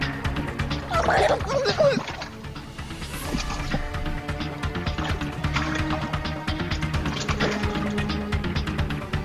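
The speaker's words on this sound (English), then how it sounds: "I was gagging and belching so hard I felt like I was going to regurgitate all my internal organs" A character in the Corpse Party: Book of Shadows horror game gags and belches, a loud, wet, gurgling retching at close range over an eerie game soundscape.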